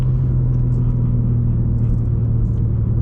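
Steady, loud engine drone of a manual BMW M2 with the M exhaust fitted, heard from inside the car as a constant low rumble with no revving or gear changes.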